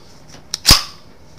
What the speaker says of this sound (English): we're going to safety check this gun real quick.